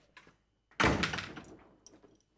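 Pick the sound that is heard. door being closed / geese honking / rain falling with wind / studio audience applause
door being closed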